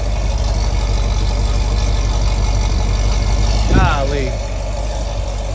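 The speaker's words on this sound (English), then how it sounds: "Man, I love the sound of that LS9 cam." A Corvette C6 ZR1 with a supercharged LS9 V8 and an aftermarket cam idles steadily and loudly close by, a continuous low rumble throughout, while someone speaks briefly over it near the end.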